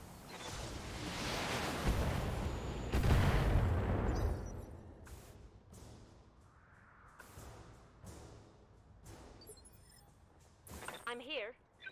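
Heavy mech weapons fire in a Battletech battle, booming blasts and rumbling impacts in the first few seconds, followed by quieter mechanical clanks and whooshing effects, with someone talking over the action.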